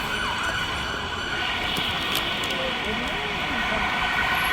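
A police siren wails at a distance on a busy London street, faint and steady beneath constant traffic rumble and murmuring voices throughout.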